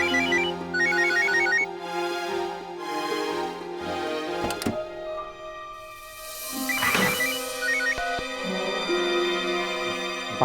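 A phone ringtone plays a repeating electronic melody in short bursts, close and clear, with pauses between rings and no talking.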